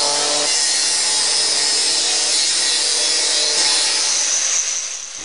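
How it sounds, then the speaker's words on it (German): A power saw grinds continuously and loudly through cement floor screed, cutting construction joints to about two thirds of the screed depth before crack repair with resin, with no one speaking. "Arbeitsfugen werden zu Beginn auf etwa 2/3 der Estrichdicke aufgeschnitten."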